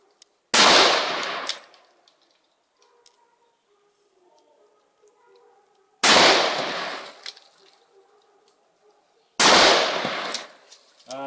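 .44 Magnum handgun shots at bottles ring out three times, loud and close, each a sharp crack with a trailing echo, spaced by several seconds of quiet.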